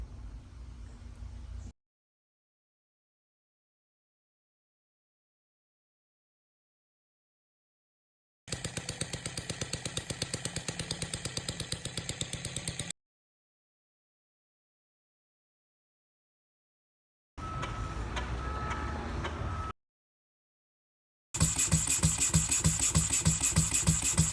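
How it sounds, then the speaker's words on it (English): A Jerry Howe Farm Boy model engine fires in short bursts separated by silence, a rapid, buzzy popping run that grows sharper and louder in the final stretch. "the first one that we're going to look at is the Jerry Howe Farm Boy engine"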